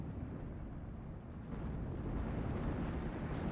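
A Panzer III tank firing at infantry in the Steel Division 2 war game, heard as a dense, rumbling low wash of gunfire and blasts that swells slightly toward the end.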